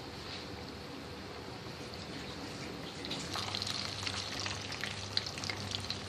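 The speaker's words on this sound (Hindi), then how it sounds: "ये देखें ये तमाम फ्राई हो चुके" Heart-shaped bread pieces fry in a pan of hot oil with a faint, steady crackling sizzle that grows slightly busier and louder partway through, with no voices over it.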